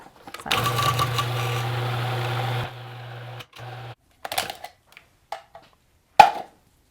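A food processor pulsing keto lemon cheesecake filling: a loud whirring motor runs about two seconds, then shorter bursts and brief clattering pulses stop and start with pauses between.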